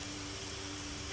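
Car wash water spray in the game Gas Station Simulator, a brief continuous hissing spray with a faint steady tone underneath.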